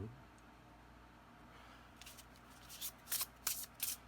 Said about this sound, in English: Yeah, it shuffles great.